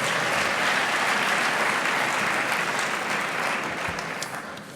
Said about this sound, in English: Give yourselves a round of applause for being cooperative.